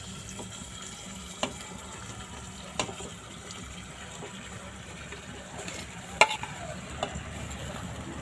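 Bamboo shoots go into a pan of stir-fried pork, giving soft scraping, stirring and faint sizzling with a few light clinks of a utensil against the pan.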